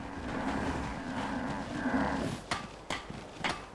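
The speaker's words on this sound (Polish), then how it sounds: "Krowa wyje i brzmi jak alarm" A brahmin cow in Fallout 4 lets out a long, loud, wailing moo that sounds like a siren. It is followed by a few short sharp knocks near the end.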